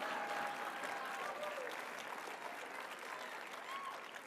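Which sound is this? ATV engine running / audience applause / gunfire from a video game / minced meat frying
audience applause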